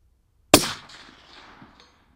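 A single sharp rifle report at a steel target range, cracking loud and close and then trailing off into a short decaying ring, with no talk over it.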